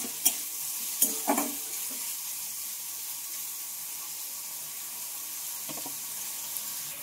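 Pieces of pointed gourd frying in a pan give off a soft, quiet sizzle, with a few sharp scrapes of a spatula early on and one more near the end. No one speaks.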